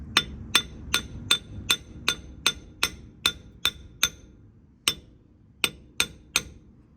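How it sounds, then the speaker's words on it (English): A hammer taps a pinion seal into the front differential housing of a Toyota Tacoma, sharp metallic strikes in a steady rhythm of about a dozen blows with a short pause before the last few, close and clear. "So now I just want to keep working it around, tapping it evenly"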